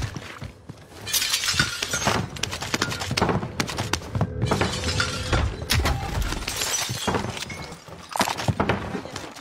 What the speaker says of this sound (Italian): Ha rotto il vetro all'esterno.